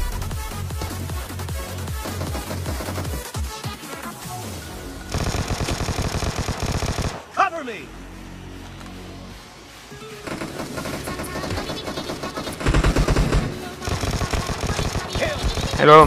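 Gunfire in the battle-royale video game PUBG: dense bursts of automatic fire rattle in the first few seconds, then louder sustained shooting and explosive bursts come and go, with voices talking underneath.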